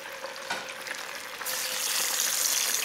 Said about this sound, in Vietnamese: Dầu nóng thì mình từ từ cho đậu vào để chiên nè.